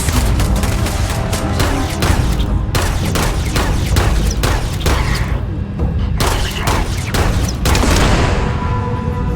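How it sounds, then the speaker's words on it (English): Rapid bursts of gunfire from a weapon in the video game Starfield, repeated sharp cracks with booming tails in uneven volleys across the whole stretch, loud and close. "Man, this gun's aim is atrocious."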